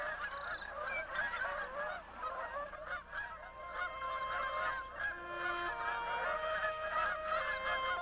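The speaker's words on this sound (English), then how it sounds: "Arriving migrant waterfowl stake out and announce their breeding territories." Migrant geese and other waterfowl honk across a spring prairie marsh, a dense chorus of overlapping nasal calls from several birds, moderately near and continuous, over a low steady background.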